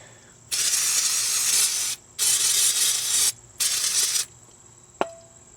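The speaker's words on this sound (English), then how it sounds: "I'm gonna get my can of brake clean, and we'll spray it off real quick" Three long bursts of brake cleaner aerosol spray hissing loudly and close, each lasting over a second with short pauses, followed by a sharp metallic tap.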